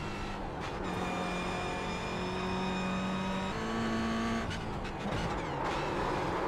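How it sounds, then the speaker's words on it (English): Race car in iRacing at Bathurst, engine drone with steady harmonic tones and a brief squeal-like band as the car spins out, continuous and loud throughout. "We've had a spin out and the next car's only now right behind us."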